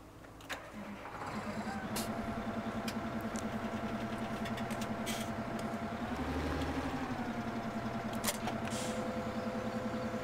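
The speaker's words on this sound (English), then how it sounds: "Enter the tractor and attach everything." A tractor engine idles in Farming Simulator 17 with a steady low mechanical hum, a brief rise in pitch partway through, and occasional clicks and faint game sounds on top.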